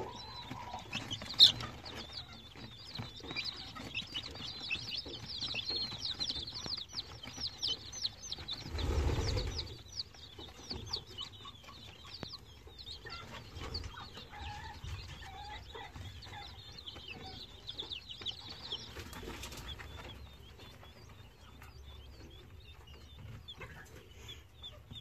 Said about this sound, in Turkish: Yavru Çin bıldırcınlarına annelik yapan yavru bir civciv.